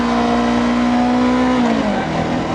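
A Honda 400X motorcycle engine revs hard at high rpm, around 6,500 to 7,000, with a loud, steady, rising howl that drops briefly near the end. It sounds close and continuous, with no talking over it.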